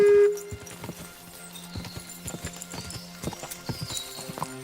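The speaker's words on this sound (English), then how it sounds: "We're gonna try to win a horse race." Horse hooves clip-clopping at pace during a race in Kingdom Come: Deliverance, a rapid irregular drumming of footfalls with a brief tone at the start and faint ambient game sounds.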